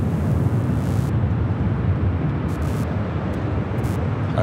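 A heavy airliner at Los Angeles airport (LAX) rumbles with a loud, steady broadband roar of jet engines, close and constant throughout with no talk.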